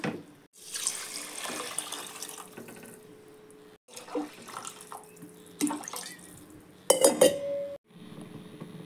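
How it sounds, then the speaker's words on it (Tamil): Salted water pours into a cooking pot in a steady splashing stream, with scattered metallic clinks of the pot and utensils, close and moderately loud with gaps between pours. "உப்பு தண்ணி ஊற்றிக்கிடுவோம்."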